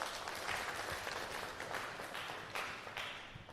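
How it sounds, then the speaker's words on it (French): A civil society gathering in Maradi breaks into applause, a continuous wash of many hands clapping at moderate distance, fairly quiet and slowly thinning out. "Applaudissez pour vous, s'il vous plaît."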